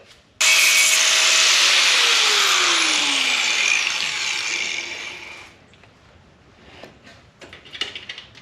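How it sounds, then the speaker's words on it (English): Power grinder or cutting tool working on the steel floor pan of a Range Rover Classic, a loud continuous harsh whine with falling pitch sweeps for about five seconds, then stopping into quieter scraping and clatter. "Grind it back to the black part."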